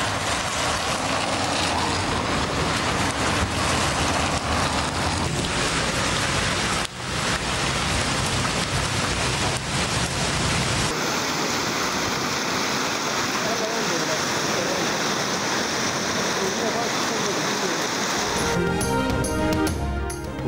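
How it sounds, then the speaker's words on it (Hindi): Heavy monsoon downpour pounds steadily in flood news footage from Malakand, Pakistan, a loud dense roar of rain and rushing water under a continuous news narration voice. "मालाकंड में भी मूसलाधार बारिश हुई,"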